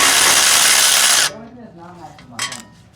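Power tool on the rear brake bolts of a Toyota Celica GT-S during a TRD big brake kit install whirs loudly for about a second, then stops, followed by faint clinks and quiet talk.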